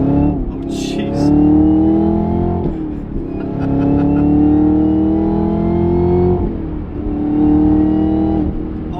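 A Camaro ZL1 with an LT4 V8 and its boost controller turned up accelerates hard, a loud close engine roar climbing in pitch through three pulls with shifts between, and a brief voice exclaiming early on.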